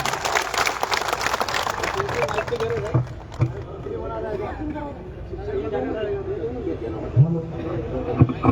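A crowd of teachers at a gathering bursts into loud, sustained applause that fills the whole stretch, with chatter and voices mixed in and a few sharper claps standing out near the end.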